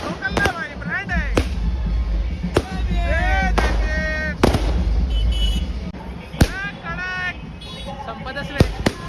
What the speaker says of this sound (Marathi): आपले फटाके बघा लागतं इथं.